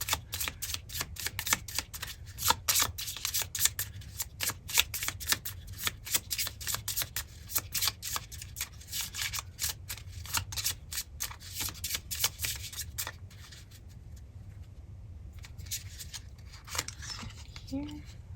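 A mushroom oracle card deck is shuffled by hand in quick, repeated riffling flicks that carry on for several seconds before trailing off into quiet, close and fairly crisp.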